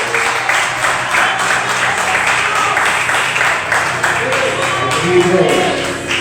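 Applause from a church congregation during a service of the Missão Elohim campaign, steady crowd clapping filling the whole stretch with faint voices mixed in.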